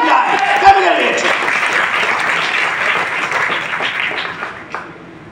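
A live audience bursts into loud, sustained applause at a talk, dense clapping filling the whole stretch and tapering slightly toward the end.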